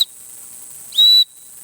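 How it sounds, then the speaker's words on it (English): A secondary whistle built into a Rat Izula skeleton knife with a paracord-wrapped handle gives one short, piercing blast of steady high pitch, loud and close against faint background hiss. "it has another whistle, secondary whistle here."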